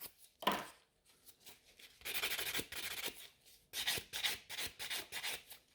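Nail file buffing and reshaping the free edge of an almond-shaped gel nail during a rebalance, soft scratchy rubbing strokes in short repeated bursts, close and quiet.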